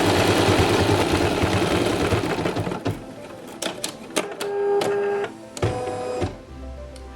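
An embroidery machine sews the final seam of an in-the-hoop zippered pouch. A rapid, steady mechanical stitching whir comes first, then it gives way to short clicks and stop-start pulses as the machine slows and halts.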